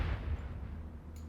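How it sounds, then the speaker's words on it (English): Gunfire in the 1950-set Command: Modern Operations scenario Dawn Strike: a dense, low rumbling barrage of distant shots and booms that fades slightly over a second, with a faint crackle near the end. "the gunfire was a little loud"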